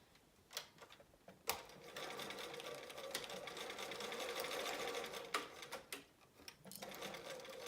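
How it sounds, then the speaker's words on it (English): A sewing machine stitches fabric at a quarter-inch seam allowance with a regular needle, running steadily and close for several seconds, with sharp clicks and small pauses at the start and end. "I'm at the sewing machine, and I just use a 1/4 inch seam allowance"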